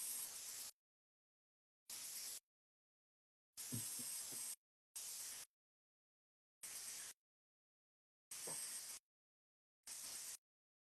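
A makeup setting spray bottle gives seven short, sharp hissing bursts at uneven intervals, each about half a second long with silence between, close to the microphone.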